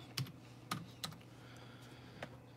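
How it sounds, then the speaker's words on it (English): A few separate keystrokes on a computer keyboard in an office, four spaced taps over a steady low hum, fairly close and moderately quiet. "So if you just go to the website, type in Madoka"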